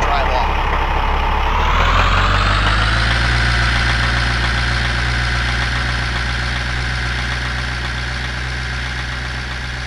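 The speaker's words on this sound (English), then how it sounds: "now that noisy truck will go drive off." A loud, rumbling truck engine revs up and then drones steadily as the vehicle pulls away, heavy and close throughout.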